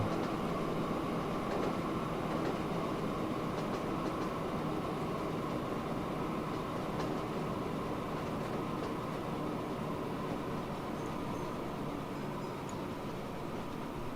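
Steady, continuous rumble of a train rolling along rails in the Train Fever railway simulation game, a dense even drone with faint clatter throughout and no voices.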